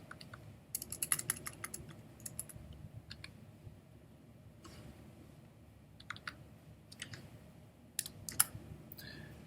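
Someone types on a computer keyboard while coding in Python, with quiet, irregular bursts of key clicks and short pauses between them, heard close up with no talking.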